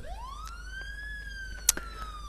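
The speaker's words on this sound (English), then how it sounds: "just put the sirens on for a bit and drag everybody out of the buildings." A vehicle siren in the video game State of Decay wails in a rising sweep, then holds a steady high tone, with a sharp click near the end.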